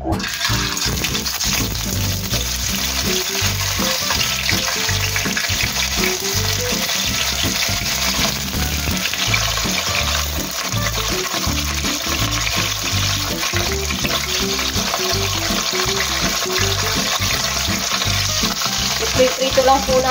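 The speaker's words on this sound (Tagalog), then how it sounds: "Iprito lang po natin siya ng hindi masyadong toast kasi ayaw po nila ng toast na toast" Tofu sizzles and crackles steadily in a hot pan, a dense continuous frying hiss with occasional utensil scrapes and stirring clicks throughout.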